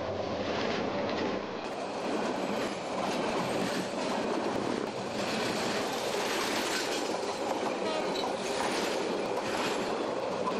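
A moving train rumbles steadily with rhythmic clickety-clack of wheels on rails and faint squeals, a dense continuous rolling noise heard from on board or close by, with no talk over it.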